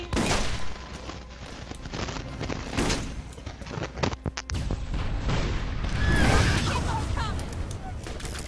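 Gunfire in a Borderlands co-op session: a string of sharp, booming shots spaced irregularly, loud and close, with a bigger crashing blast near the end amid game noise.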